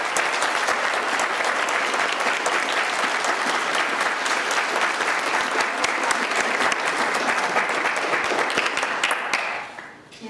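Audience applause welcoming a guest speaker at a debate alumni event, a dense sustained wash of clapping from a large crowd that keeps going for about ten seconds, then fades out at the end.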